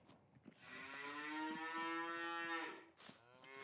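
An Angus calf in the Farming Simulator 22 video game gives one long, drawn-out moo up close, followed by a short extra call at the end.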